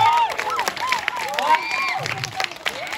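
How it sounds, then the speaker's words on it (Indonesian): Crowd applause and cheering at a Balinese temple ceremony, loud and close, with a dense roar of clapping, voices and whistles, and other sounds mixed in. "Tepuk tangan untuk masyarakat Bangli."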